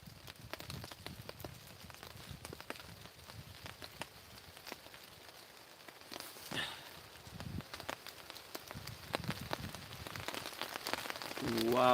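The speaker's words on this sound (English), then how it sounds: "that rain is coming down now" Rain falls steadily outdoors and patters on nearby surfaces as many close, scattered drops. It is fairly quiet at first, then heavier handling noises and patter come in toward the end.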